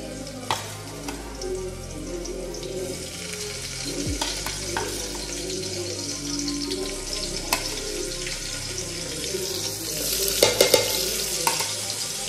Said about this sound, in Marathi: चांगल्या प्रकारे कांदा गोल्डन होईपर्यंत आपल्याला परतून घ्यायचं आहे. टाकूया टोमॅटो,